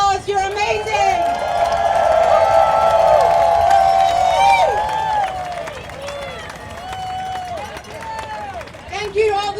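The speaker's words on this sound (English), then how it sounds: "Give yourselves a huge round of applause." A crowd at a No Kings rally at the Ohio Statehouse claps, whoops and cheers loudly in a sustained outdoor burst, with voices rising over the applause and fading slightly toward the end.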